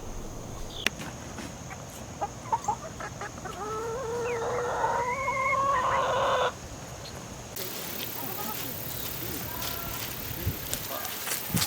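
Chickens at a makeshift backyard coop, with clucks and a drawn-out crow-like call rising in the middle, nearby and moderately loud over outdoor background, while a person talks intermittently.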